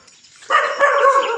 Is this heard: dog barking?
yes